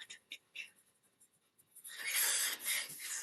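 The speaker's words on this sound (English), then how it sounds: "Let me just write this out." Pen or pencil writing out trigonometry equations by hand on paper, soft scratchy strokes close up, growing into a louder sustained scratching toward the end, with faint whispered speech mixed in.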